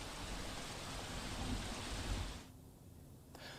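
Steady heavy rain pours down in Ahmedabad during waterlogging, a dense continuous hiss that drops away sharply near the end, leaving a quieter, softer patter.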